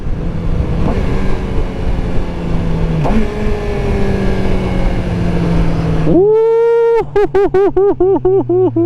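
A motorcycle engine drones steadily, then is revved sharply upward and blipped several times in quick succession during a rev-matched downshift, loud and close.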